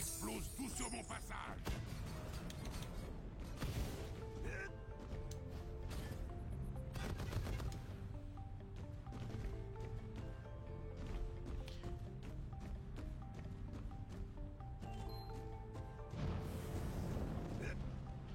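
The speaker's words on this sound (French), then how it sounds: "J'explose tout sur mon passage." Explosions and cannon blasts in the Skylanders Trap Team video game burst repeatedly over dense, constant game music and effects, loud and continuous throughout with a few sharper booms standing out.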